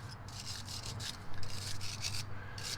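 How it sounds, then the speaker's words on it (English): Wire brush scrubbing rust and corrosion off a lower control arm on a 1999–2004 Honda Odyssey, heard as soft, repeated rasping strokes in a steady back-and-forth rhythm over a low hum, fairly faint and close. "you want a good wire brush, like I mentioned, to get that corrosion off,"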